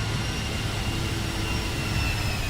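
PMDG 737 jet engines at takeoff power in a flight simulator game: a steady, loud, broadband roar with a thin high whine running through it, continuous and unbroken, with no voices.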